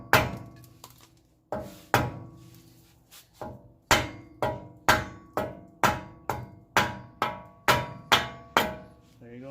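Rhythmic blows from a soft mallet strike the CV axle of a Toyota Tacoma 4x4, about a dozen close, loud thunks at a steady pace, each with a short metallic ring.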